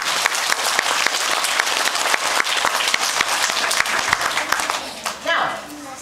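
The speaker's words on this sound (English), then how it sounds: "let's clap for our first graders" An audience at a school reading assembly claps for first graders, producing dense, sustained applause that fades toward the end with some murmuring.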